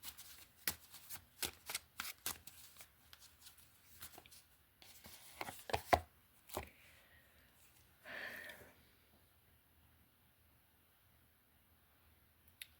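Playing cards shuffled and drawn, a run of close, crisp riffling flicks and snaps spaced irregularly, followed by a softer slide and then near silence, with no talk.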